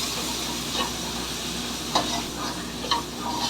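A spoon stirs pav bhaji masala, Kashmiri chili powder, salt and methi in a hot pan for street-style pav bhaji, giving a soft continuous sizzle with a few light scraping knocks of the spoon against the pan.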